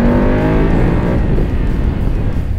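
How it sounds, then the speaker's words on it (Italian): A 2018 BMW F850GS motorcycle engine revs up sharply, rising in pitch then dropping off, loud and close with no talking. "guardate come risponde, veramente sportiva, richiamo del gas."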